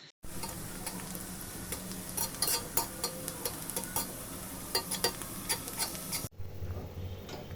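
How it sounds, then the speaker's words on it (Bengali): Ghee-fried onions are poured into hot khichuri and stirred, giving a steady close sizzle with repeated spoon taps and scrapes against the pot before the sound drops away near the end; no one speaks. "খিচুড়ির মধ্যে ঢেলে নেড়ে দিলাম"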